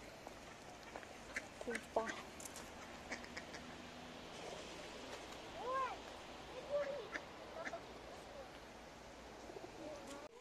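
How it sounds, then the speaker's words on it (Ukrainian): Ducks and pigeons gather under willows at a city pond in North Saltivka, Kharkiv, giving scattered faint quacks and soft coos against outdoor ambience, while someone talks nearby. "Під вербами і голуби, і качки."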